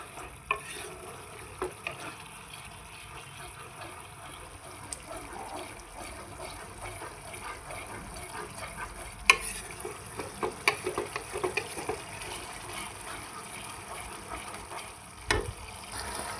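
Masala spices fry and sizzle in a pan for a tiffin dish as a utensil stirs them, a continuous soft crackle broken by occasional scraping clicks, with no talking.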